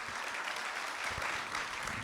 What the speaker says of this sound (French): Je pense qu'on peut les applaudir à nouveau